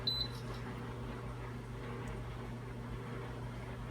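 A Bella multi pressure cooker gives a couple of quick, high beeps right at the start as its timer is set, then a steady low appliance hum carries on alone.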